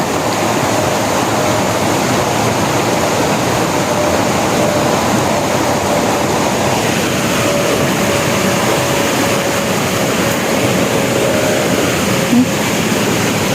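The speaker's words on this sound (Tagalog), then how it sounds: "Galing po sa bundok yung tubig na yan." Floodwater from the mountains rushes along a road during a strong typhoon, a loud, constant roar of churning water with no pauses and no voices.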